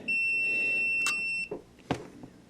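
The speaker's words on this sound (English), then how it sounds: "I'm probably gonna get a beep." Multimeter continuity beeps while probing a Rockford Fosgate P400-2 car amplifier circuit under repair: a steady high tone held for over a second, then short clicks and a faint tap nearby.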